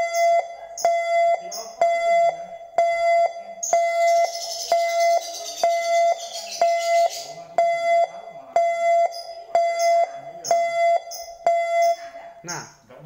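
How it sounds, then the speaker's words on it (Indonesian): A Mitsubishi Grand Jimny's warning chime for an open door with the engine off and key left in the ignition sounds as evenly spaced electronic beeps, about one per second, with a brief burst of background noise partway through. "Bunyi pertama biasanya tuh pada pintu terbuka, mesin mati, dan kunci masih tercolok di setirnya."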